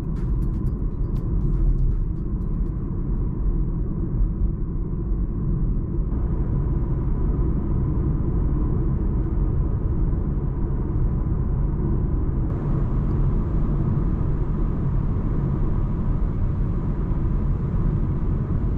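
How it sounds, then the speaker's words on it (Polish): Cabin noise inside a 2019 BMW X4 M Competition with acoustic laminated glass while driving, a steady low road and engine rumble throughout with no talking. "teścik wyciszenia, auto ma akustyczne szyby klejone"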